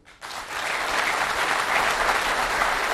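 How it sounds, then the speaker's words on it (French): An audience applauds after official speeches at a diploma ceremony attended by the head of state, a full, even wash of clapping that starts abruptly and holds steady and fairly close. "Après ces discours très applaudis par l'auditoire"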